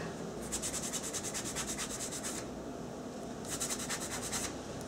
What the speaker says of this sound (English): I also sand the back as well because that also starts out dark.